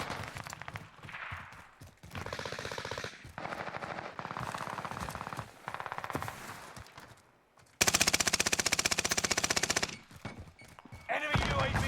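Automatic weapon fire in a first-person shooter played on a PC, with repeated long bursts broken by short pauses, loud and close, one extended burst near the end, and occasional voice and game sounds between.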